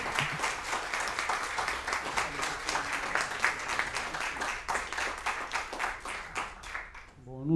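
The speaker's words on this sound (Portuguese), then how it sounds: "Muitos aplausos para vocês entrando no palco" Applause for a chamber music ensemble entering the stage at a concert hall, a lively round of clapping with distinct individual claps, with voices talking underneath and the sound tapering off at the close.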